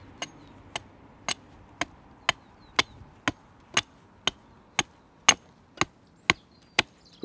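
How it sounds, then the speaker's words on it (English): An axe chopping the end of a wooden post to a point, fourteen sharp, evenly spaced strikes about half a second apart, close and distinct against a quiet outdoor background. "I've got my post, I've got the axe, and I'm just going to sharpen one end."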